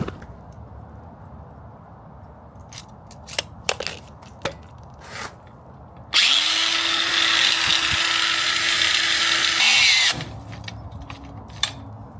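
A power tool whines steadily as it cuts through a metal tie rod on a Chevy Silverado for several seconds, preceded and followed by scattered clanks and taps.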